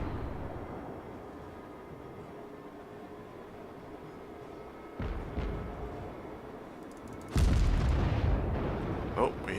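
Naval gunfire in World of Warships, with a low rumble building into a sudden heavy boom as a shell slams into an island, and a sharper second blast later while a voice talks over it.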